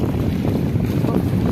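Steady wind blows across Lökbatan lake during fishing, a continuous loud low rumble buffeting the microphone without letup.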